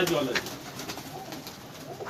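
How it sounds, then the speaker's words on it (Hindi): A pigeon from Ustad Rana Razzaq's loft in Chunian gives soft, low cooing at close range, with faint human voices murmuring in the background. "ये भी प्योर मज वाला कबूतर है जी"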